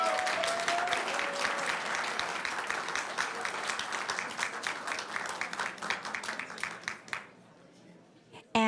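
At a school board meeting honoring an employee, the room bursts into loud, dense applause that gradually thins into scattered individual claps before fading out.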